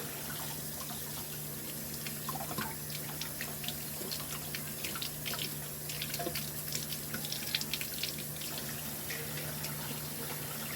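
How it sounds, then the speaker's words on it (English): Dirty eggs are washed with Castile soap under a running tap, with water splashing and dripping throughout over a steady background hum, close and continuous. "I just go ahead and wash them in this gentle soap"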